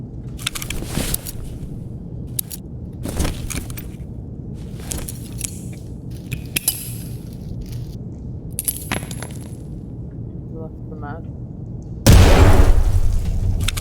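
In the video game Escape from Tarkov, scattered footsteps, clicks and rustles come first, then a grenade goes off near the end with a loud, sudden boom that rumbles on to the close.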